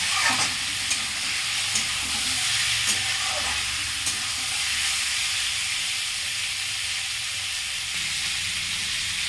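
Chicken pieces fry with onions in a hot pan, giving a continuous bright sizzle with occasional stirring clicks and scrapes, steady and close with no voices.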